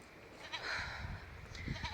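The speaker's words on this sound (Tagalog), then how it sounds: "may kambing, oh." On a mountain trail a goat gives a faint bleat amid soft outdoor background noise and scattered low rumbles, heard from some distance.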